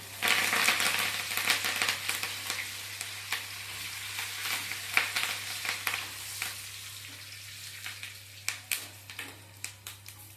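Curry leaves hit hot tempering oil with small onions and dried red chillies for sorakaya pappu, giving a loud, close crackling sizzle that gradually settles, broken by sharp clicks of a stirring spoon.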